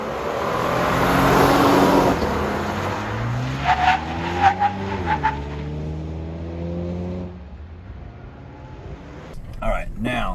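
A 2022 Toyota Tundra pickup decelerates hard from 50 mph, engine drone falling in pitch while someone talks over it and faint tire noise follows, ending in quieter cabin hum.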